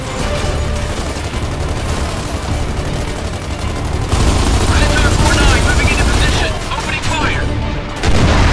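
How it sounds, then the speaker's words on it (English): Sustained heavy gunfire rattles through a Gears of War 2 battle, dense overlapping automatic bursts and booms filling the whole stretch at high volume, intensifying after the midpoint with brief dips near the end. "We're still under heavy fire from our left flank!"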